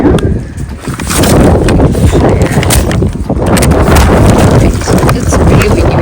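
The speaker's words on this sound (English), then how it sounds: "It's really windy." Strong wind buffets the microphone in a steady, loud roar with gusting surges, with faint voices underneath at moments.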